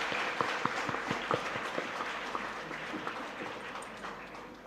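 Audience applause at a conference session in India, a moderate crowd clapping with some distinct individual claps standing out, holding steady and then easing off slightly toward the end.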